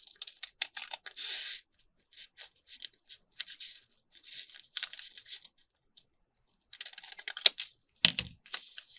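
Paper booklet edges trimmed, probably with scissors: repeated close, crisp snipping and rasping cuts in short bursts with brief silent pauses between them, and a thud near the end.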